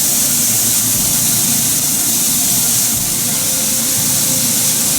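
Onions and peppers sizzling loudly in a hot pan while cooking ropa vieja, a steady, close, dense hiss without pause and with no talking.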